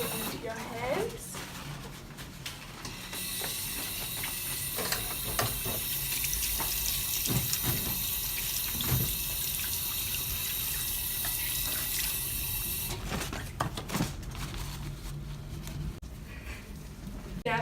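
Warm tap water runs steadily into a sink for hand washing, a loud, close, continuous splashing rush that eases near the end, with a voice talking over it.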